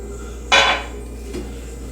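A spoon clinks once, sharp and close, against a metal cooking pot while herbs like rosemary and oregano are stirred in, followed by a softer second tap.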